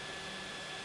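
A Wonders Living Breeze King WF70 mini cordless fan running on its fourth speed gives a steady, even airy whir with a faint constant hum, quiet and unbroken.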